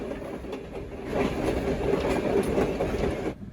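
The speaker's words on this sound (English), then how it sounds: "I then headed up to the front of the train, where there I got to see 1630 working hard" Locomotive 1630 works hard at the head of a train, a steady rumbling engine mixed with rhythmic wheel clatter that swells midway and stays moderately loud, with no talking.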